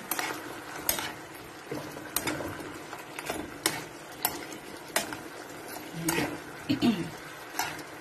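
Pork for sweet and sour pork is stirred in a frying pan, with repeated close scrapes and clinks of a utensil against the pan over a light sizzle.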